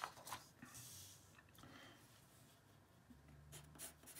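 Pilot Parallel pens scratching on paper while handwriting, a soft, continuous faint scraping with small strokes and lifts, heard close and alone.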